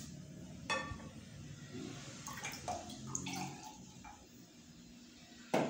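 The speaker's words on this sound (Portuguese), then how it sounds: "E agora eu vou colocar água limpa." Clean water poured into a cup during a chemistry demonstration, a faint, steady wash of trickling liquid lasting several seconds, with a few soft clinks and a sharper knock near the end.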